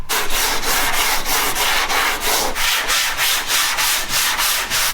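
Rhythmic back-and-forth sanding strokes on body filler on a Chevy truck cab rasp loudly and close, about two strokes per second in a steady, even pattern.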